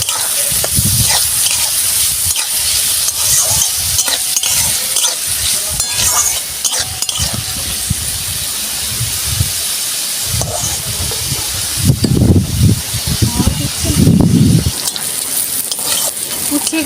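Sliced bitter gourd frying in hot oil with turmeric and salt, a loud, steady sizzle and hiss with stirring scrapes throughout, and heavier bursts of spluttering toward the end.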